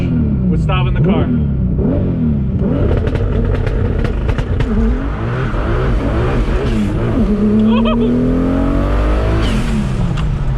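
A widebody Audi S4 with a big-turbo VR6 launches hard, its engine roaring loudly as it climbs through the revs with rising tones and brief shift breaks, with voices inside the car over it.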